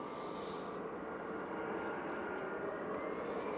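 A TUI airliner arriving from Barbados on final approach at Manchester Airport makes a steady, moderately distant jet roar with a broad, even rumble that holds for several seconds, alone with no talk.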